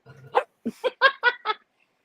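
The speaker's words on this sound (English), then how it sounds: "Teddy's barking at your dogs because he can hear them." A small dog barks in a quick run of five or six sharp yaps, close and clear, after a brief low whine, then silence.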